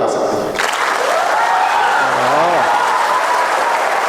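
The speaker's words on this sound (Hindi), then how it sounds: "ये तालियां आंकड़ा बताएंगी" An audience at a Hindi kavi sammelan poetry recital breaks into loud, sustained applause that fills the whole moment, with a short voice calling out over the clapping.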